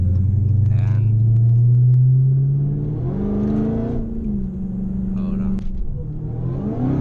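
A Dodge Hellcat's supercharged engine holds a deep, loud rumbling rev, then drops and rises again in low, throaty surges close by, while a person briefly speaks.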